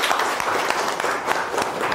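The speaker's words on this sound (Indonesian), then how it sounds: "beri tepuk tangan untuk kalian semua" Students in a classroom clap together, a dense, steady burst of applause close by that runs for a couple of seconds with no talking over it.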